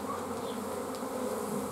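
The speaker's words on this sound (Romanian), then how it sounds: "Este un roi foarte frumos" Dense, steady buzzing of a honeybee swarm gathered on the front of beehives in the rain, a continuous close hum with no voices.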